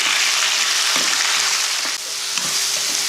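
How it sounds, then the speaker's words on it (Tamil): Tomato, curry leaves, coriander and green chili sautéing in hot oil, a loud, dense, continuous sizzle close up with a few faint stirring knocks underneath. "ஒரு பச்சை மிளகாய் போட்டு இதை நல்லா இது கூட வதக்கிடுவோம்"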